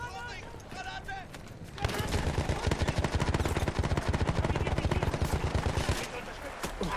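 Battlefield 1 combat with a thrown grenade and gunfire: a short burst of noise gives way to dense, rapid, loud gunfire that rattles steadily for several seconds before easing off.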